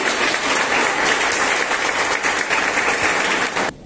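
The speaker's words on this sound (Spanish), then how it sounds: "Un aplauso para todas y todos." Sustained applause from an audience at a certificate ceremony for a human rights, gender, justice and peace diploma course, steady dense clapping filling the room, then cutting off abruptly near the end.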